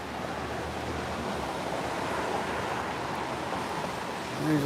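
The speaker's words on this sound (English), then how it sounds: "So the river's running by right over there." River water flowing nearby in the Smoky Mountains around Gatlinburg, a steady broadband rush like surf with some wind noise, unbroken for the whole stretch.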